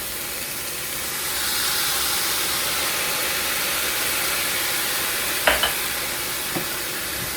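Egg roll in a bowl fries in a hot pan with soy sauce, giving a loud continuous sizzle and hiss up close, with a few brief utensil clinks near the end and no talking.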